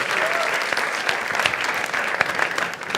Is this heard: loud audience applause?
yes